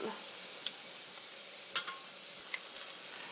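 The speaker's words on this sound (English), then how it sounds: "You're gonna wanna brown every side, top, bottom, every inch of it you wanna get as golden brown as you can." Pork shoulder browning in a hot pan for carnitas gives a soft steady sizzle, with a few clicks and taps of utensils against the pan.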